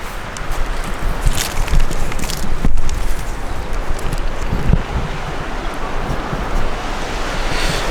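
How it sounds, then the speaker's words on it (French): Strong wind gusts buffet a Lone Rider motorcycle tent, a continuous roaring rush of air with loud surges and flapping fabric, no voices. "des rafales à 65, pas de problème"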